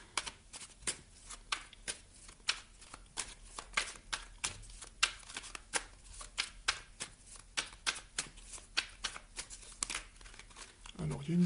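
Tarot cards shuffled during a reading, a rapid run of crisp riffling flicks and slaps in an uneven rhythm close by, continuing for several seconds with a soft voice talking underneath.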